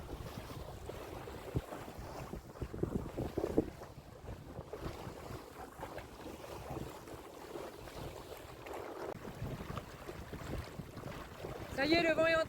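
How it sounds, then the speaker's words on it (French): Wind rising over a sailboat at sea, a steady broad rush of gusts and water noise with microphone buffeting, fairly loud throughout and swelling near the end. "Ça y est, le vent est en train de monter."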